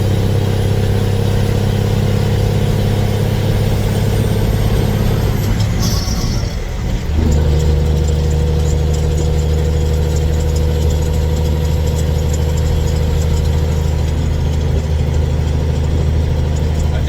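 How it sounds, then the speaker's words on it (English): A loud Cummins Big Cam diesel engine in a Peterbilt truck hauling 5000 gallons of water up steep hills drones steadily under load, turbo whining on top, a brief dip and hiss midway, then a deeper sustained roar. "Hear that turbo now."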